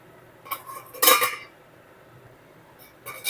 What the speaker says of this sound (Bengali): এর মধ্যে চাপা দিয়ে দেব যাতে তেলটা না চারিদিকে ছিটকায়।